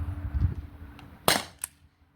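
A single sharp shot from a modified T4E HDP50 CO2 pistol, loud and close, followed by a quieter secondary snap, with no talking.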